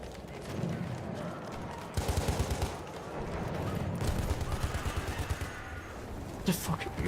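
Gunfire in Battlefield 1 on PS4, a multiplayer battle with bursts of rifle and machine-gun shots rattling in quick clusters against steady battlefield noise, with occasional sharper nearby cracks.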